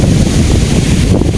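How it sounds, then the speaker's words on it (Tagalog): Waves and strong wind on a beach at Dingalan, Aurora, a loud steady roar of surf with heavy wind buffeting the microphone. "Dito ang kanilang beach."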